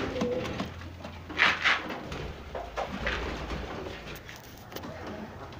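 An Egyptian local pigeon coos in soft repeated bursts close by in a hot coop where it sits on eggs, with steady background noise throughout.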